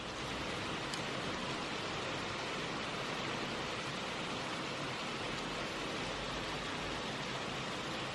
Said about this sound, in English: Heavy rain, heavy rain,